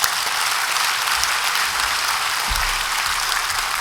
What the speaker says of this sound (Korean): 우리 김한효 목사님 우리 나오실 때에 뜨겁게 환영의 박수 부탁드리겠습니다.